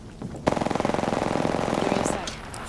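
A rapid burst of automatic gunfire in the video game Apex Legends: about twenty evenly spaced shots in quick succession, loud and close, lasting roughly two seconds before stopping.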